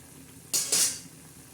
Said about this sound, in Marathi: अशी वांगे फ्राय होते अजून शिज शिजत आहे